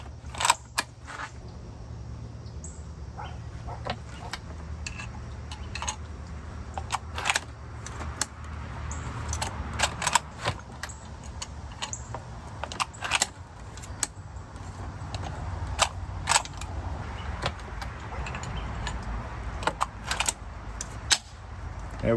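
A rifle bolt closing over a fitted extractor during gunsmithing at a workbench, heard as scattered sharp metallic clicks and clacks over a low steady room hum, fairly close.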